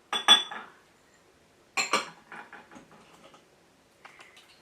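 A spoon stirs paprika and dry mustard into mac and cheese in a pot, giving two bursts of close metallic clinks and scrapes with quieter scraping between and a faint clink at the end.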